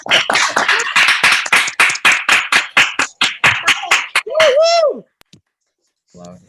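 Participants on an online video call clap rhythmically, a loud, steady patter of hand claps for about four seconds that ends abruptly, followed by a brief spoken remark.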